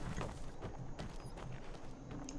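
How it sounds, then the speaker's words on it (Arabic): Horse hooves clip-clop at a walking pace in the video game Skyrim, with a steady rhythm of soft, fairly faint steps and no talking. "وهذا شو الحصان شو عم بيعمل هون؟"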